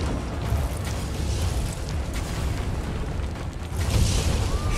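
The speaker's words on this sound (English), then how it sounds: "And mortar shells, nice. Artillery fire." Mortar shells and artillery fire in the indie video game Save the Forest: a continuous loud rumbling barrage of booms and blasts, dense low-end explosions rolling together throughout with a brighter burst near the end.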